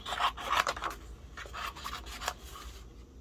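Scissors fussy-cut a paper strawberry tag with soft, close snipping and rustling at a quiet level, a few quick cuts clustered together and then lighter cuts, with no talk.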